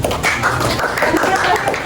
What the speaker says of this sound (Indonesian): Beri tepuk tangan untuk kelompok auditori